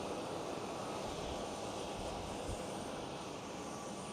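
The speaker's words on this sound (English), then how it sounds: "A320neo from EasyJet looks like it's going south." An EasyJet Airbus A320neo airliner at Amsterdam Schiphol gives a steady, distant engine roar that holds evenly throughout, with no voices.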